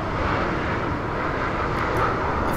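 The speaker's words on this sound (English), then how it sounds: "We out here right by the airport, so these planes going over." Jet airplanes pass overhead near an airport, a loud steady roar of engine noise filling the whole stretch without a break and with no talking.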